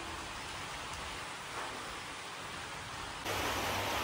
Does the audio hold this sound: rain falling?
yes